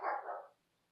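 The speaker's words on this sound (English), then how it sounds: "I have a barking dog in the background." A dog barks once or twice in the background, a short muffled burst that fades quickly into quiet.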